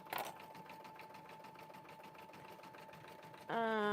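A sewing machine runs steadily, stitching seams while making quilted name badges, with a close, even mechanical whir for several seconds before a voice cuts in.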